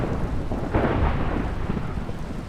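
A thunderstorm in the Pixelmon Minecraft video game: a dense, continuous rumble of thunder over a steady wash of rain, loud and close, with a brief swell near the start and no speech.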